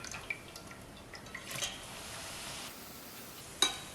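Omapodi, a crisp gram-flour snack, fries in hot oil while being flipped in the pan. A soft, faint sizzle rises and falls, with a few light metallic clinks from the utensil.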